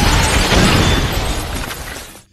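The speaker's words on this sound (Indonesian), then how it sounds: "Sementara Freeman masuk ke sana dengan menerobos kaca." In a film scene, glass shatters loudly as someone crashes through it: a sudden broad burst of breaking noise that decays over about two seconds before cutting off.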